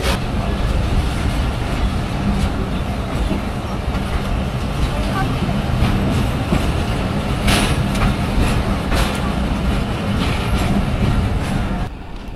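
A Rohanpur commuter train pulls away on the line from Rajshahi toward Nachol, with a steady, loud rumble of rolling wagons throughout and brief rattling bursts. A voice speaks briefly over the noise.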